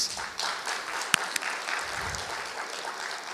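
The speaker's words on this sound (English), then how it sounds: "Let's all give them a big round of applause." Applause from the audience at a business masterclass on innovation and growth in the GenAI era: a dense, steady wash of many hands clapping for about three seconds, with a couple of sharper claps standing out and no talk over it.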